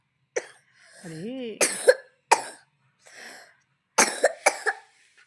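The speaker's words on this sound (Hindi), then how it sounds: "खांसी हो गई है बाबू को," A baby with a cold coughs a few times in short bursts at close range, with an adult voice and soft vocal sounds in between.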